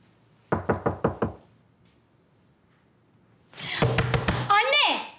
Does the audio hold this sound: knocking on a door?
yes